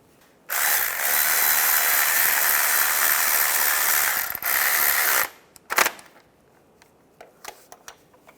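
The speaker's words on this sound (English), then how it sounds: "you can torque those starter bolts to 30 foot-pounds" A power tool whirs steadily for several seconds while tightening starter bolts on a 2005-2010 Chevrolet Cobalt, then stops abruptly, followed by a sharp metallic clack and a few faint clicks and taps.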